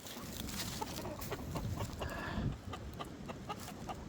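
Seven hens in a backyard pen clucking together with a rooster, soft repeated clucks and short calls scattered over a quiet outdoor background, fairly close but low in level, with no talking.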